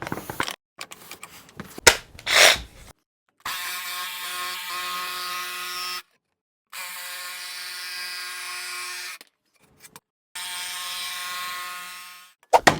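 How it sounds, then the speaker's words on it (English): A jigsaw cuts along marked lines in a board clamped to a workbench, giving several sustained buzzing passes of a few seconds each, separated by short pauses and brief handling knocks. "we'll be cutting those marks with our jigsaw"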